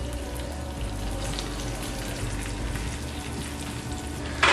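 Onions added to a pan of ghee and coconut oil fry with a steady, dense sizzle and hiss at moderate volume, ending in a brief louder burst, with no voices.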